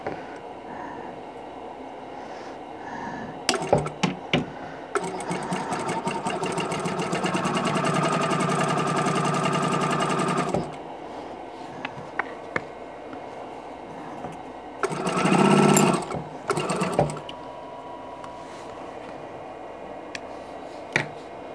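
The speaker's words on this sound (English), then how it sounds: "So I'm just gonna sew a 1/4 inch seam." A sewing machine stitches a quarter-inch seam on quilt blocks, running in one sustained close whir for several seconds, then a shorter burst later, with light handling sounds between.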